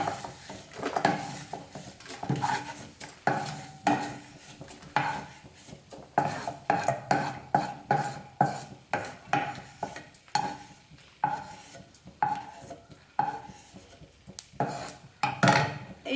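Fried flattened rice with ghee scraped and tipped from a pan onto a plate for Kerala-style aval vilayichathu, giving repeated close scraping, stirring and clinking of a utensil against metal in uneven bursts, with no talking.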